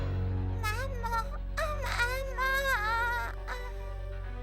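A cartoon chick named Nero gives a string of high, voiced clucks and chirps, close and clear over a steady low background hum.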